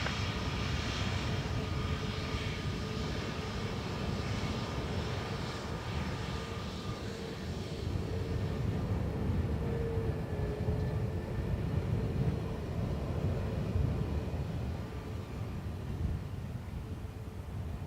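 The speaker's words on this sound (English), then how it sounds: "Air Canada Dreamliner next, 787-900, for those that want to know." An Air Canada Boeing 787-900 Dreamliner lands at Dublin Airport on runway 28 left, a steady distant jet engine roar that holds for the whole stretch with a faint whine above it and no talk.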